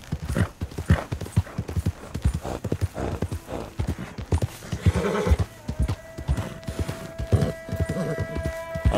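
Hooves clip-clop steadily at a walking pace in the video game Red Dead Redemption 2, close and rhythmic, with a horse whinnying once; a sustained tone hums in the background.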